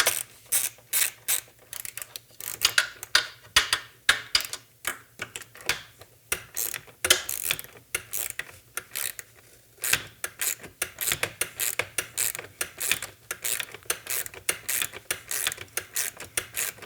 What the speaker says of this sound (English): And I'll get a wrench on the bottom.